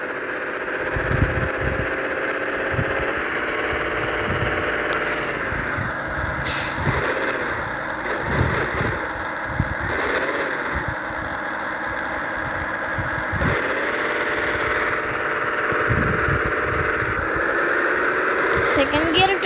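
A vehicle engine runs steadily after a shift into second gear, a continuous close drone with rising and falling revs and scattered knocks, while a person talks over it.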